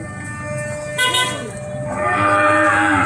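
A cow lows at a busy rural cattle market, one drawn-out moo rising mid-clip over a steady crowd murmur, with a horn-like tone and background voices close by.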